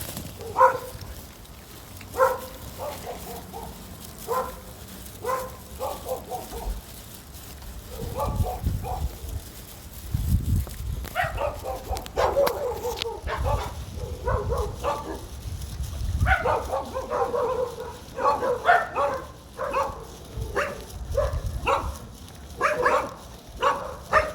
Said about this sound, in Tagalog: Ang daming aso sa daan.